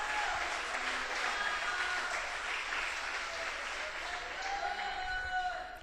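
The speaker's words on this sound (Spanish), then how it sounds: "Si usted va a aplaudir al Señor," A church congregation claps during a Spanish-language service, a steady roar of applause from many hands that carries on without pause, with faint tonal sounds riding on top.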